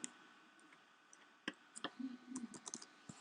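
Light computer keyboard key presses, including the Tab key, click faintly and close by while formatting in a desktop publishing program, arriving as scattered single taps and short irregular bursts in a quiet room.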